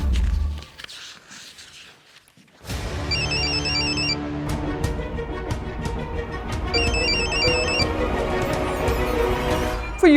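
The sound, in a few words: telephone ringing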